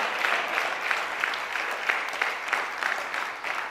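A church congregation claps together in rhythmic, steady applause for several seconds, with no talking over it.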